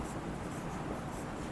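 Chalk or marker scratches steadily across a board while a maths problem is worked out, a continuous close rubbing, scraping sound with no speech over it.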